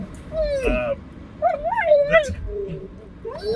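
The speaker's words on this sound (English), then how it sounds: "There's some dogs out." Dogs outdoors whine and yelp in high, wavering cries, fairly close and in several bursts, while people talk nearby.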